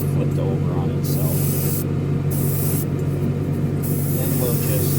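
A spray can lays primer onto a Revell 1971 Boss 351 Mustang model hood mounted on an old paint can, the hiss steady and close throughout with a constant hum beneath.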